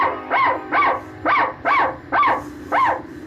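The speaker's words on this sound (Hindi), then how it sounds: "कुत्ता फिर जोर लगाने लगा भौंकने के लिए" A dog barks in an animated children's story, six evenly spaced, loud barks in steady rhythm, close and alone without talk.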